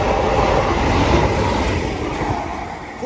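A West Coast Railway Class 47 diesel locomotive, number 47813, running light engine through Bletchley station, giving a loud, steady broadband rumble with a high whine that holds for the whole pass.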